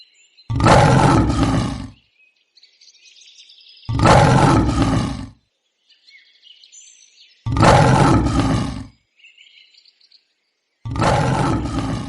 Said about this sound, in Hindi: शेर को दहाड़ते हुए देख